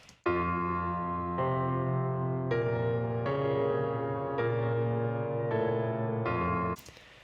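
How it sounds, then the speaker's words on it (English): The verse piano part of a song: sustained chords change every second or so in a steady, full-sounding pattern, played alone with no voices, ending abruptly. "this piano is on all of the verses"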